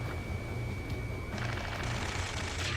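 Dense bursts of automatic gunfire in a ground-combat stretch of the video game Ace Combat 7: Skies Unknown, sustained and loud without a break, with a steady tone running underneath.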